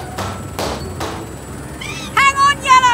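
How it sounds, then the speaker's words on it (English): Cartoon balloons popping one at a time, three sharp separate bursts spaced about half a second apart, followed by high animated voices. "To lower Yellow down nice and slow, we'll pop one balloon at a time."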